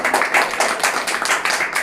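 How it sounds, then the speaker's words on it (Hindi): A classroom of students claps in a brief round of applause, a dense patter of hand claps that rises and falls, with no talking. "इनके लिए भी जोरदार ताली बजाइए"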